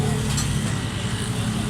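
A Suzuki Cultus EFI engine idles steadily up close, a low continuous rumble with a faint rapid ticking from loose tappets running through it.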